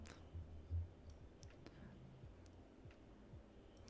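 Faint, sparse clicks are picked up by a streamer's microphone, scattered irregularly through a quiet background hum.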